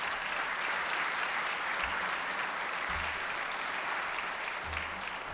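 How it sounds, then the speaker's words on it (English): An audience at a Rotary Club meeting applauds in a sustained, even wash of clapping, moderately loud and steady throughout, with faint low thumps underneath and no speech. "So please give them a round of applause"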